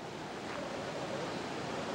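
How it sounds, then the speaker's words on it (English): Pacific Ocean surf along the California coast, a continuous broad wash of breaking waves with some wind noise on the microphone, steady and fairly close. "Can you hear the waves?"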